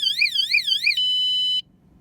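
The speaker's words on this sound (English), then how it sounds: "If they touch it again within 10 seconds, the alarm goes off." A Kontur XP2.0 bike's anti-theft alarm warbles shrilly up and down three times, then holds a steady high tone briefly before cutting off abruptly.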